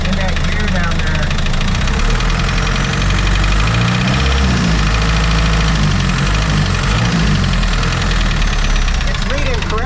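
The Austin-Healey Sprite engine runs loud and close at its first startup, a steady rough idle with a knocking, vibrating rumble throughout, and a voice talks over it.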